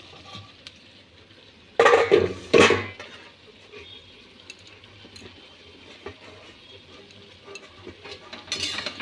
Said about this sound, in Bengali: দিয়ে আবার ভালোভাবে আমরা খুন্তির সাহায্যে এটাকে চালিয়ে নেব